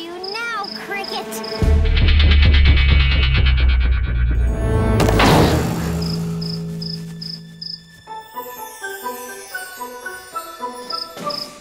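A cartoon cricket from a Polly Pocket kids' episode chirps in a living room, with rhythmic high chirps and tinkling tones over a loud musical score that swells, then thins to pulsing chirps.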